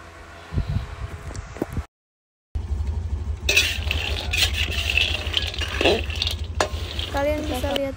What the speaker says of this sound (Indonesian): Kalian bisa lihat di sini ketika aku lagi menyangrai cacao bean-nya, ini benar-benar panas.